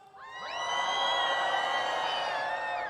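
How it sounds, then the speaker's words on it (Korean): Large crowd cheering, whooping and shouting at a public ceremony in a plaza, a loud sustained roar that swells in within the first half-second and holds steady, with high voices carrying over the mass. "자, 함성 한번 질러볼까요?"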